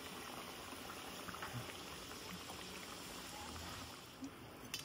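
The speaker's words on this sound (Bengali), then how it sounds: "ডিপ ফ্রাই করে নেব" A Kolkata street-style Mughlai paratha deep-fries in hot oil, giving a continuous, even sizzle and bubbling hiss that holds steady and eases slightly near the end.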